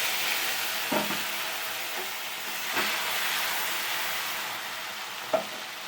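Chopped tomato hitting oil tempered with dried red chilli, bay leaf and whole cumin for dal, a steady close sizzle with a few soft stirring knocks and no talking.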